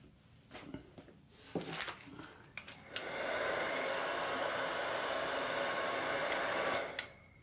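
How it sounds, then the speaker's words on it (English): A heat gun warms and softens the epoxy coating on tarnished copper sinks: after a few scattered clicks and handling noises comes a steady close airy blast that roars evenly for about four seconds, then cuts off. "I'm using the heat gun just to soften the epoxy, make it a little more fluid"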